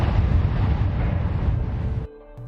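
A loud blast from a mine collapse trapping 33 workers: a deep, roaring rumble that holds steady for about two seconds, then cuts off abruptly into a much quieter tail.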